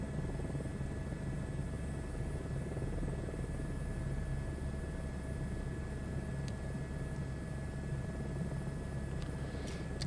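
A helicopter in Microsoft Flight Simulator 2024 on a Grand Canyon air tour, its steady rotor and turbine drone holding level throughout, close and continuous with no talk.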